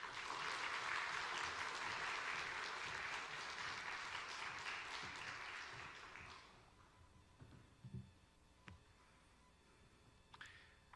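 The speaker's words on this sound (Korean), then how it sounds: "우리 이옥찬 강사님 큰 박수로 환영해 주시기 바랍니다." A church congregation gives hearty applause to welcome a new preacher; the clapping is full at first, thins out after about six seconds, and trails off into a few scattered claps.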